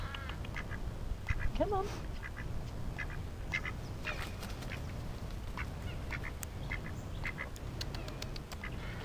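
Ducks quack briefly outdoors near someone feeding them by hand, a short burst of calls early on over steady background rumble, with a voice coaxing them and occasional small clicks and rustles.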